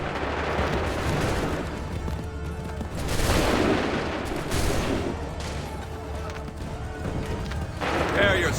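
Musket volleys in Assassin's Creed III, with sharp bursts of massed gunfire at about one and three seconds and again later, among battlefield noise, shouted orders and running.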